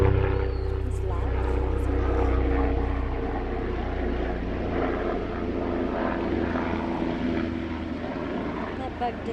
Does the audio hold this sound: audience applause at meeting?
no